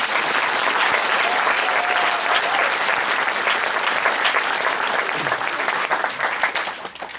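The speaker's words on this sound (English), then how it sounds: "You can clap if you want." An audience at a talk breaks into loud, dense clapping that carries on continuously, thick and even, before thinning slightly at the very end; no one speaks over it.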